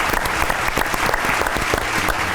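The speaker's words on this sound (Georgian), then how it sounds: "ტაში ამ გადაწყვეტილებას." A studio audience at a comedy game show claps enthusiastically, dense steady applause filling the short stretch with no talk over it.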